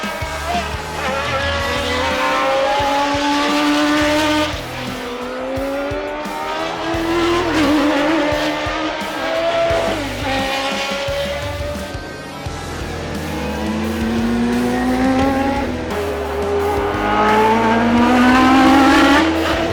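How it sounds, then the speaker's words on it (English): Historic racing cars roar past on the Imola circuit, engines loud and close, rising and falling in pitch as they accelerate, shift gears and sweep by one after another with occasional tyre squeal. "But next, the historical cars. We finally get to see them hit the track."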